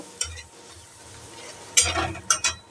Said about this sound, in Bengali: আর সামান্য একটু এটা নাড়াচাড়া করে সামান্য একটু যাতে মশলাটা পুড়ে না যায় সেই জন্য একটু সামান্য পরিমাণে আমি জল দিয়ে দিলাম